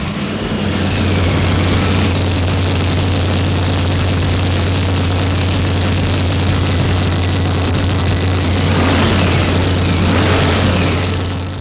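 A high-revving LS-based car engine with a short-stroke, long-rod NASCAR-style build, a loud sustained drone with a heavy low hum throughout, swelling slightly near the end, with no talk.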